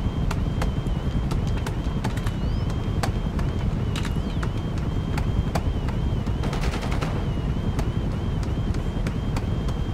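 Rapid, relentless gunfire rattles on without pause in the video game Project Overthrow, dense repeated shots layered over a thin high whine and low rumble.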